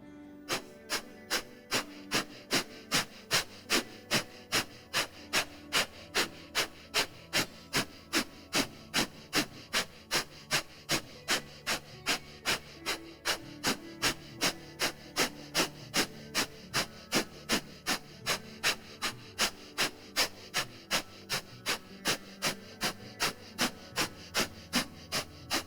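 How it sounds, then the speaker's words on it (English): Breath of fire yoga breathing during a facial yoga session: fast, rhythmic, forceful nasal exhales pulsing steadily around two per second for nearly half a minute, close and even in pace. "whenever you're ready, we'll begin breath of fire"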